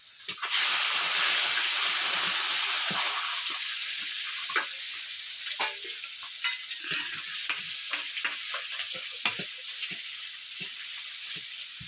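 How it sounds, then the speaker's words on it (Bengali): Tangra fish frying in oil in a kadai give a loud, bright, continuous sizzle, broken by repeated scrapes and taps of a spatula stirring the pan, close up with no talking. "ট্যাংরা মাছগুলো এই কড়াইতে ভেজে নেব।"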